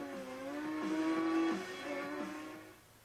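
Motorbike engine in the off-road racing video game Pure, a steady revving drone that rises and dips in pitch over about three seconds, heard alone at moderate level.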